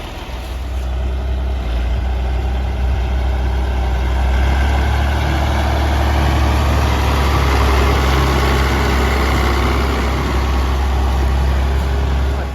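A 1955 Oliver tractor engine runs steadily nearby with a loud, low, even rumble and a constant mechanical drone throughout, with no voices over it.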